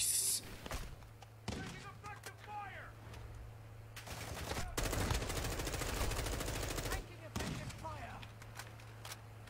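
Bursts of automatic gunfire and rapid shot volleys come from a shooter video game, some sharp and close, with a long dense stretch of firing in the middle, while a player talks over the action.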